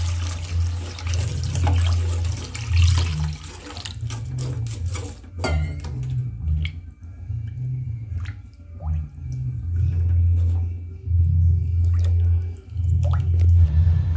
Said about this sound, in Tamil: தேவையான அளவு தண்ணி சேர்த்துக்கிறேங்க.